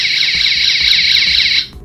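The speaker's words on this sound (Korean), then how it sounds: "이렇게 설정된 알람값을 넣으면 소리 빛 경보를 울립니다" A FIX800 fixed multi-gas detector, set up to measure CO2, sounds its audible alarm: a loud, steady electronic tone with a fast warble that holds for about a second and a half, then cuts off.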